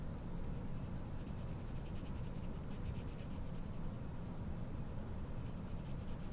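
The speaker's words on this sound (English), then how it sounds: "I'm going to use the side of my pencil to tone in the shadow" Side of a 2H graphite pencil shading on paper: steady, faint, continuous scratchy rubbing with fine rhythmic strokes, close and without talk.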